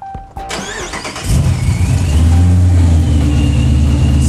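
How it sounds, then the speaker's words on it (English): A car engine cranks briefly after a few clicks, catches and settles into a loud, steady idle close by, with no talking. "I'm actually going to fire the vehicle up so we can see this thing recording in real life."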